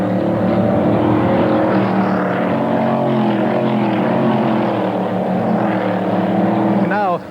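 Players Ltd GM Motorsport race cars from the 1990 finals roar past on a road circuit, several engines loud and close with shifting, overlapping pitch, before the sound cuts off abruptly.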